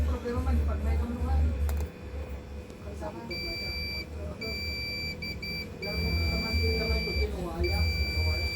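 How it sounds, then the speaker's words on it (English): A multimeter's continuity tester beeps on a ceramic capacitor's terminals while repairing a Skyworth 43SUF6300 Google TV, giving several steady high-pitched tones of varying length under ongoing speech and background hum. "The one-side terminal of the ceramic capacitor will beep because it's connected to the negative line."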